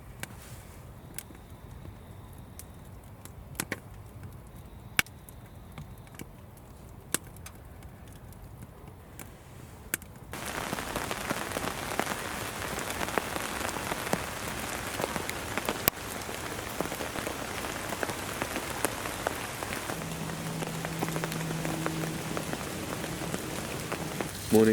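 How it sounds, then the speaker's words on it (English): Rain falls on a canvas tent during a winter wild camp in the woods, a steady patter that starts as sparse drips and becomes denser and louder partway through, continuing alone without talk. "it's been raining quite a lot actually"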